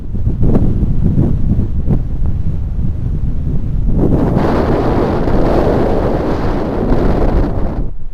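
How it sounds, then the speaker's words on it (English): Strong wind on the summit of Mam Tor in the Peak District buffets the microphone in heavy, roaring gusts, growing louder and harsher halfway through, with no voices. "It's incredibly windy up here."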